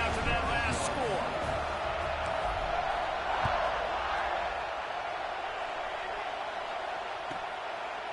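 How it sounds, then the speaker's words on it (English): Stadium crowd noise in the College Football 26 video game, a steady broadband roar and buzz during a Notre Dame dynasty game, holding fairly loud throughout with faint bursts of cheering. "this crowd is buzzing after that last score."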